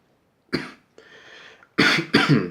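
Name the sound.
cough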